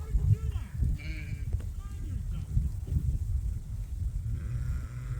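Sheep and rams in a farm pasture bleating, with a few bleats near and distinct over a steady low rumble of movement and background noise, calls scattered across the moment rather than continuous.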